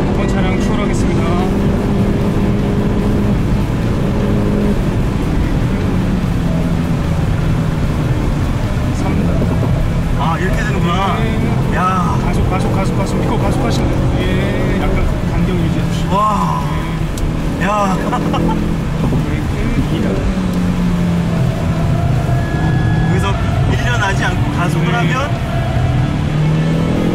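A Hyundai Veloster N drives hard around the Inje Speedium circuit, its engine roaring loudly and constantly with rising and falling revs through gear changes, while someone talks over it throughout.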